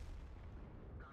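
ISU-122-2 tank gun firing in World of Tanks, a deep, heavy boom rumbling for a moment, with a voice imitating the shot.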